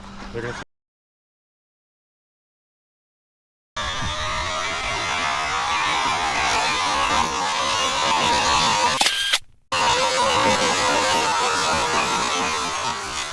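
Electric RC desert trucks racing over dirt, a steady high electric motor whine that runs for several seconds, cut by a silent gap, with people talking nearby.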